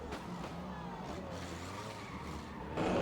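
Race cars on a speedway track, with one spinning out, sound as a distant engine drone with a rising and falling tire squeal, followed by a sudden louder surge of noise at the end.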